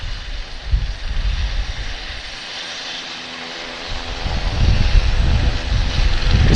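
An Erickson S-76 helicopter at Vancouver Airport gives a steady engine whine with low rotor throbbing that swells louder toward the end, heard at moderate distance with no voices.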